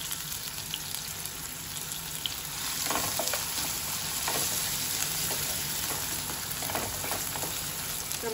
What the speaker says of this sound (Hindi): टमाटर ऐड करने के बाद इसमें हम नमक डाल देंगे ताकि टमाटर हमारे जल्दी गल